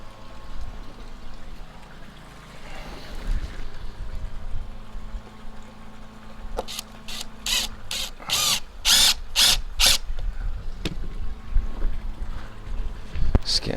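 A power drill drives screws into roofing boards on a koi pond filter house. It gives a cluster of short, loud whirring bursts in quick succession against a steady outdoor background, with no talk.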